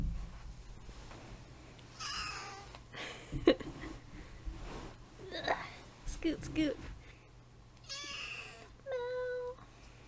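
A small cat gives a few high, thin meows, with quiet voices and rustling in between and a steady low hum underneath.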